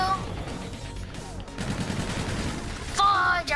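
Rapid gunfire from a multiplayer shooter game, Call of Duty Infinite Warfare beta, crackling in dense bursts throughout with a sharper volley near the end, loud and up close, with brief speech mixed in.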